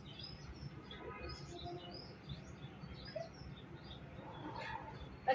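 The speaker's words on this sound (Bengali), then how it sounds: "কি করতেছে পাখিরা?" Birds chirp outdoors with scattered, light tweets and soft calls above a low, breezy background, faint and somewhat distant.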